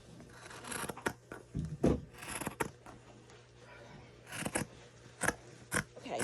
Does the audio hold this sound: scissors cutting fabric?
yes